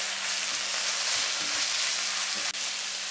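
Vegetable fried rice with soy sauce stir-fried in a hot pan, a loud steady close sizzle with periodic soft tossing knocks and a sharp clack near the end.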